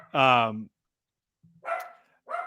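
A dog barks once, loud and close, then after a pause gives two shorter yips or barks, with a brief murmur in between.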